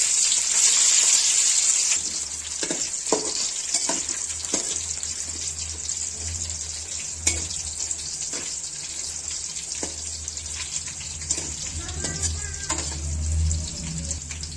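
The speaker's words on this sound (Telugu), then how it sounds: "ఇలా బాండలు పెట్టి నూనె వేయాలి. బాగా మరిగిన తర్వాత ఆవాలు, ఇలా దంచుకునే తెల్లగడ్డలు" Mustard seeds and crushed garlic fry in hot oil in a kadai. A strong hiss at the start settles into a steady sizzle with scattered crackles and pops.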